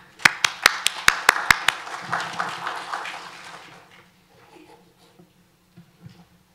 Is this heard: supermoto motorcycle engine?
no